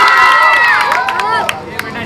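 A crowd of children at a political rally shouts and cheers loudly, their high voices overlapping in a continuous excited din with some scattered claps.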